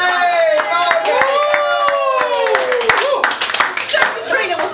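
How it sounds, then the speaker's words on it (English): Audience gives a round of applause for Margate, a brief burst of clapping and cheering with voices and whoops over it. "round of applause"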